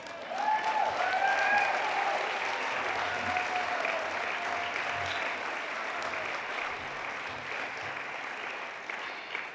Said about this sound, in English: I ask you to applaud for yourselves thunderously like Minnesotans know how to